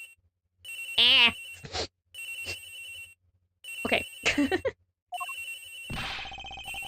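A telephone rings repeatedly in the Ace Attorney Investigations video game, several loud electronic ring bursts broken by brief pauses, with short spoken reactions between them.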